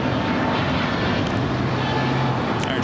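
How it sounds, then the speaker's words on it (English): A Frontier Airbus A320 jet airliner taking off at LAX, a loud sustained engine roar with a low droning hum running under it, close and steady throughout. "This is Frontier flight 4964 headed to Dallas on an Airbus A320."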